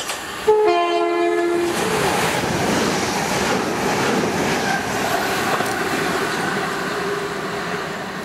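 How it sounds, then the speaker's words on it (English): A train horn blasts once, then a loud electric train roars past close by through Hassocks station with a steady rushing rumble and rattling wheels. "Train!"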